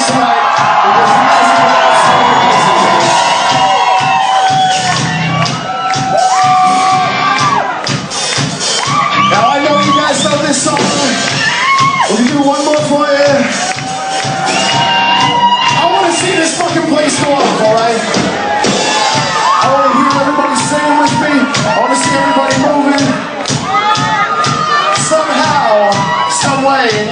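A packed concert crowd at a rock show cheers, whoops and shouts continuously and loudly, with dense overlapping voices and occasional sharp bangs throughout.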